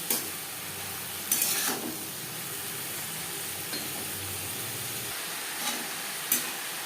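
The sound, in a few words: stirring long beans with salt and turmeric in a pan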